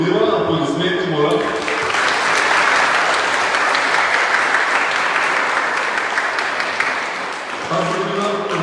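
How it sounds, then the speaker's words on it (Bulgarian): Applause opens a women's and girls' tournament for the mayor's cup in Ruse, a loud sustained crowd clapping that swells in after a voice announces it and fades as speech resumes near the end. "Аплодисменти, моля!"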